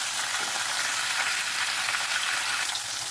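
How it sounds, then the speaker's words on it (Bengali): Vegetables fry in a hot pan with a loud, continuous sizzle and crackle, close up and unbroken, with no voices. "আগে এই সবজিগুলোকে একটু ভালো করে ভেজে নিতে হবে"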